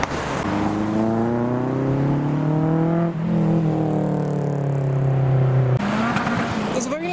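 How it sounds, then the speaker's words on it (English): A loud Mitsubishi Colt at a Japanese car meet in pouring rain rounds a corner up close, its engine note climbing through the gears in strong rising drones with a brief shift break, then dropping away. "There's a very loud Colt coming around the corner."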